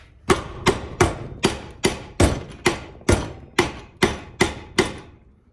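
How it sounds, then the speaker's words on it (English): Hammer blows strike a chisel on a 1986 Oldsmobile Cutlass in a steady rhythm, about a dozen sharp, ringing metallic hits close up, with no talking. "I could probably potentially hammer it out with the chisel"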